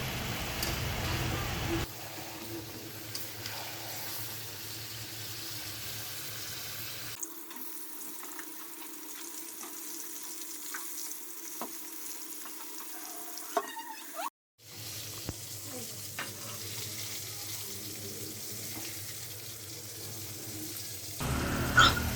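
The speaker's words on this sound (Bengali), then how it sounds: "রূপচাঁদা মাছ ভেজে নিচ্ছি আর এদিকে মুরগির মাংসটা বসিয়ে দিয়েছি" Pomfret fish frying in oil in a home kitchen pan gives a steady, close sizzling hiss that softens and briefly cuts out midway before resuming.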